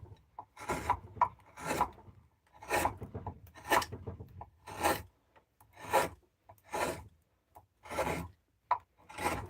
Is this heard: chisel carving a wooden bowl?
yes